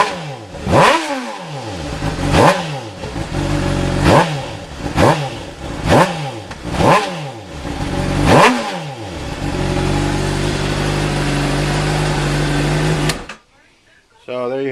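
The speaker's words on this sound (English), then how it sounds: "once you rev it, it'll get loud" A 2009 Honda CBR 600RR motorcycle with a gutted stock muffler revs hard about seven times in a steady rhythm, each blip rising sharply and falling back, then settles into a loud, rumbling idle close by.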